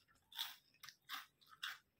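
Close, quiet crunching of Cheetos American cheese flavored corn snacks, four distinct bites or chews in a steady rhythm.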